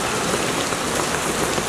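Steady rain pattering on a surface outside a stadium, a dense, even hiss of drops with no breaks and no talking.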